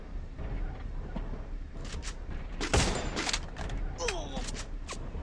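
Gunfire in the battle royale game Garena Free Fire, a few sharp bursts and cracks punctuating a steady background, one heavier shot near the middle, with voices talking faintly underneath.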